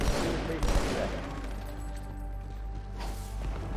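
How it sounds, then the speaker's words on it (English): Grenade blasts and gunfire in Halo Infinite on the Cairo Station level: a dense, loud barrage of booms and rattling shots packed into a few seconds, with indistinct voices underneath. "let's throw a few grenades down"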